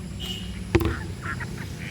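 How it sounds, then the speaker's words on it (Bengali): Ducks by a village pond give a single brief, sharp call over a quiet outdoor background, with faint murmuring afterwards. "হাঁসগুলো জল থেকে মানে ভয়ে হয়তো উঠে গেছে"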